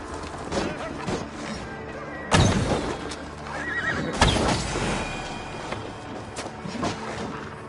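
Horses in an Assassin's Creed video game whinny loudly several times over clopping hooves and clattering, with a couple of sharp crashing hits and faint voices.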